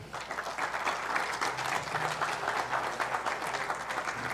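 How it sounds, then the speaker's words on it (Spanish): An audience at a talk on unit prices in Mexican construction gives a speaker a steady round of applause, many hands clapping evenly and fairly quietly throughout without interruption. "Un fuerte aplauso, por favor."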